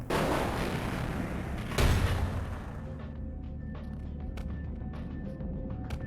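Gunfire in the video game Vampire: The Masquerade - Bloodlines, a heavy booming rumble that drops away into scattered sharp cracks and pops, with a strong blast near the middle.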